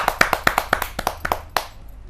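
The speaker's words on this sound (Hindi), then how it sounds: "जोरदार ताली के साथ हम स्वागत करें प्रीति कच्छल जी।" A kavi sammelan audience gives a poet a brief, loud burst of applause, with rhythmic clapping close by that thins out and stops after about two seconds, and no voices.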